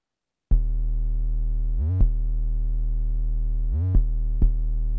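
A Sublab XL synthesizer plays a clean, bass-heavy sustained tone that switches pitch several times, sliding smoothly between notes with glide, alone after a moment of silence.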